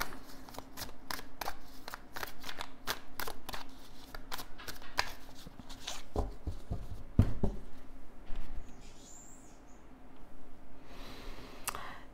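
A deck of witches' tarot cards is shuffled and cut, making rapid papery riffles and sharp clicks that come in close bursts, then a softer rustle near the end, with no talking.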